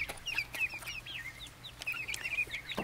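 Chickens in a backyard flock cluck and chatter repeatedly near the chicken house, several overlapping calls at moderate distance with a quiet rural background.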